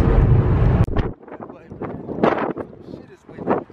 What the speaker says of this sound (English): Shit is windy.